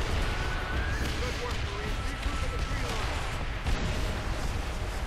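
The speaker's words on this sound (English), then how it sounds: "that was the full devastation of artillery strikes" In Call of Duty: World at War, artillery strikes hit the ground in heavy booms and crashing blasts, loud and rumbling throughout, with someone talking over the barrage.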